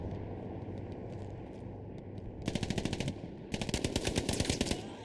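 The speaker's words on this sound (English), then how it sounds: "Jimmy Ham is waiting with that machine gun" Automatic machine gun fire in Hell Let Loose, a World War II shooter, rattles in two sustained bursts of rapid, closely spaced shots, loud and near against a constant rumbling battle background.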